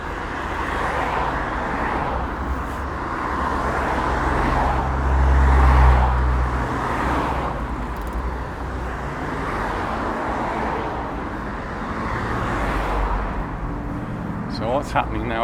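Busy road junction at Porto Pi in Palma, Mallorca, with cars circling a large roundabout, makes a continuous roar of traffic that swells and fades as vehicles pass, under someone talking throughout.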